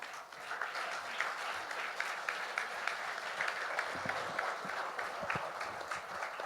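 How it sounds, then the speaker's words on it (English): A studio audience applauds couples on stage at a Tamil debate show, a steady dense wash of clapping that holds at full strength for several seconds. "do stand up and give a round of applause for them"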